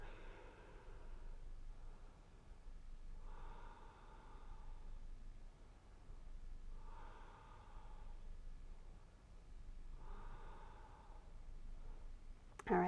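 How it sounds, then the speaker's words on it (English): Slow, deep breaths during a yoga stretch before backbends, four soft drawn-out exhales spaced a few seconds apart, close and quiet over a faint steady background hiss. "Take some nice deep breaths"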